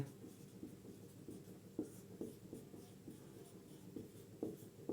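Chalk or marker writing on a board during a physics lesson, a run of faint, close scratches and taps in short irregular strokes, with no voices.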